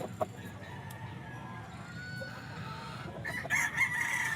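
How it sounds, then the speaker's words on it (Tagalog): Roosters crow loudly near the end over a steady background of clucking chickens and general bustle at a busy Santa Maria pet market with farm breeder booths. "Gusto nyo yung mga ganitong manok."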